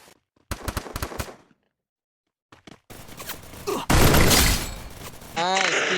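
Gunfire from a headshot in the mobile shooter game Free Fire: a few sharp shot bursts, a pause, then heavier blasts and crackling impacts, with a brief rising electronic effect at the end.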